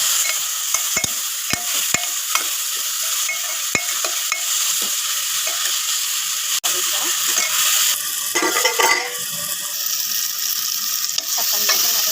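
Tomatoes and ground turmeric sautéing in a pan for a fish curry with anchovies, brinjal and raw mango, a steady close sizzle broken by repeated sharp clicks and scrapes of stirring.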